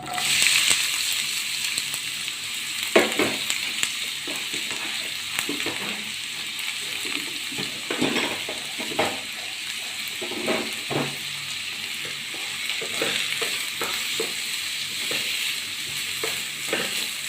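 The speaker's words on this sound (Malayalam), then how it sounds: "ഇളക്കി കൊടുക്കുക കേട്ടോ, നന്നായിട്ട് ഇളക്കി കൊടുക്കുക," Chopped onions sizzle and fry in a pan while a spoon stirs them, a steady close crackle with repeated scraping strokes throughout and no talking.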